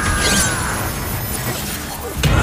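Incendio fire spell cast in Hogwarts Legacy erupts as a loud rushing whoosh of flame over dense crackling game noise, ending in a sudden burst.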